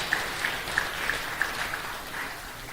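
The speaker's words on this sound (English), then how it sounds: "please keep clapping until he gets to the stage" Audience at a ferry safety conference applauding, a steady wash of moderately distant clapping with a few sharper individual claps standing out.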